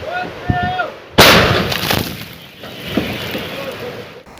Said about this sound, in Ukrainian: Один снаряд, вогонь.